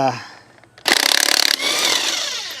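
A DeWalt battery impact wrench at work on a Nissan Pathfinder rear brake job gives a loud, close burst of rapid hammering impacts, then a steady high whirring run as the tool spins on.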